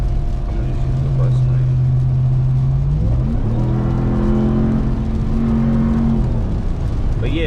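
A Ram TRX pickup drives on a road in heavy rain, its engine droning loud and close inside the cab, pitch holding steady, dipping at a shift, then climbing again as it accelerates.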